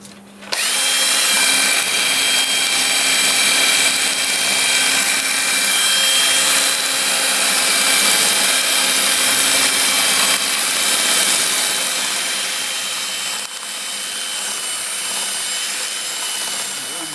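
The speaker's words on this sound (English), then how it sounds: "I'll start with a 2-inch disc, 80 grit, sand up through 400." Wood-turned bowl being sanded on a lathe with a 2-inch 80-grit sanding disc, a loud continuous high-pitched whine and hiss that holds steady throughout, easing slightly near the end.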